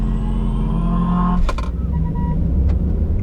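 A Mercedes-AMG car engine idles with a deep steady rumble at a race circuit, then a sharp burst of sound as it launches hard from a standing start, the roar continuing loudly afterward.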